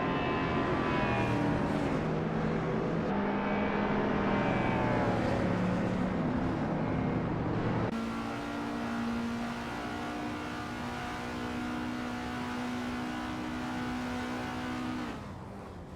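Race cars in a video game, engines droning steadily at high revs with a shift in pitch partway through, loud and continuous without talk.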